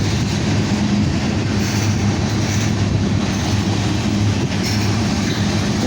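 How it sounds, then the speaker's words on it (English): A loaded tanker freight train rolls past close by, a loud continuous rumble with rhythmic wheel clatter and faint squeal, steady throughout with no voices. "It's like mostly a tanker train here."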